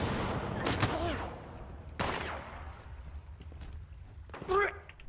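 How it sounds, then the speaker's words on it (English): Gunfire in the video game Fallout 76, sharp bursts around the two-second mark and near the end, someone talking excitedly over the shots. "Who's shooting at me?"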